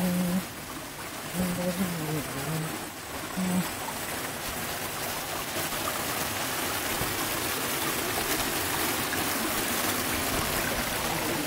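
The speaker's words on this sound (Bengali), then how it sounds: "এখান থেকে ঝর্ণার পানি আসতেছে" Water from a mountain waterfall pours down a hillside stream as a steady broadband rush that fills the whole clip, with a voice briefly audible near the start.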